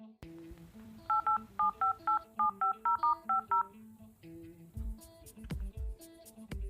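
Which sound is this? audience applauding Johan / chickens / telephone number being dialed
telephone number being dialed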